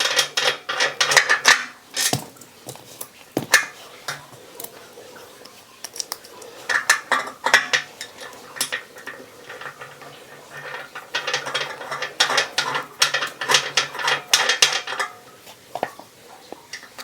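Parts of a Sunny Health & Fitness magnetic rowing machine are fitted and screwed together with a washer, giving close, irregular metallic clicks, clinks and ratcheting scrapes in bursts separated by brief pauses, with no talk.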